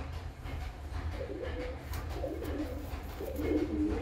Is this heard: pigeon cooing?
yes